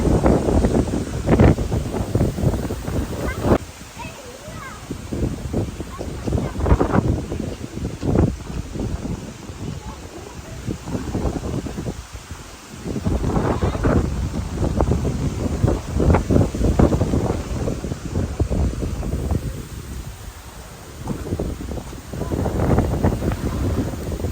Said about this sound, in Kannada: ಬಟ್ ಇಲ್ಲಂತೂ ಸಿಕ್ಕಾಪಟ್ಟೆ ಗಾಳಿ ಇದೆ